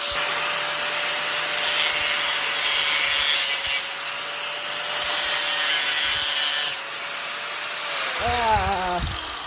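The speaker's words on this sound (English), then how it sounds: "Oh my god, why am I using an angle grinder?" An angle grinder cuts through the top of the airbox on a 2000 Polaris Trailblazer 250 ATV with a harsh, loud grinding rasp. The bursts come in surges at close range, and a short voice is heard near the end.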